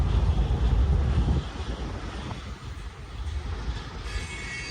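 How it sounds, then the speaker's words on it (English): Union Pacific freight train rumbling past on Cajon Pass, a steady low roar that is loud at first and then eases to a quieter, continuous rumble as the train moves off. "Train wasn't very long, I don't think."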